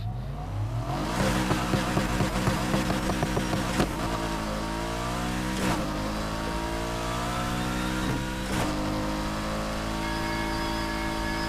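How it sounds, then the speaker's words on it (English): A Need for Speed Heat car revs and accelerates, its engine note climbing through several gear shifts with a high, jet-like turbo whistle over a steady exhaust roar, loud and continuous with no talk. "Just note a very, very high jet-like whistle whenever I take off."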